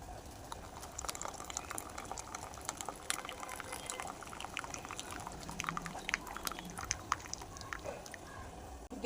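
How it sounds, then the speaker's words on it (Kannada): Excess water is poured off boiled lentils for a spinach dal, producing a soft, continuous bubbling trickle with irregular small splashes and clicks, faint and close throughout. "ಬೇಳೆಯಲ್ಲಿ ನೀರು ಜಾಸ್ತಿ ಆಗಿದ್ರೆ ಅದನ್ನು ಬಗ್ಗಿಸ್ಕೊಳ್ಳೋಣ"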